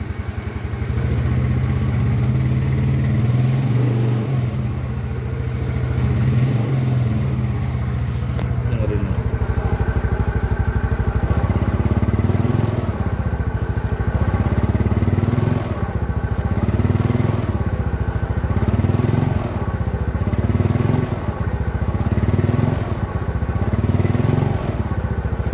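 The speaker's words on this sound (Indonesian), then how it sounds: "Ini punya masalah berbet di tarikan di putaran bawah nih guys." Yamaha Mio Sporty scooter engine with a low-rev hesitation fault, idling and revving unevenly with a pulsing, stumbling rhythm that swells and drops repeatedly, close and loud throughout.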